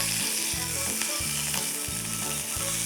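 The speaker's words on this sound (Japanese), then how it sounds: "皮目から焼いて焼き目ついたら多分ピーッと取れると思うんで" Skin side of a white fish fillet such as sea bream sizzles steadily in a hot pan, a continuous close frying crackle with occasional soft shifts, no talk.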